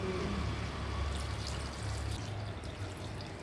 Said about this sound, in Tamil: இப்போ திருப்பி நல்ல தண்ணி திருப்பி ஊத்தி திருப்பி கொஞ்ச நேரம் வேக வைக்கணும்.